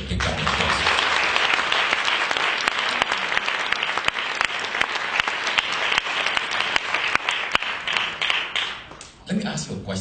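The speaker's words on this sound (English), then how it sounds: "Let's give everybody a big round of applause." A large audience breaks into loud, dense applause that holds steady and continuous for several seconds before thinning out near the end.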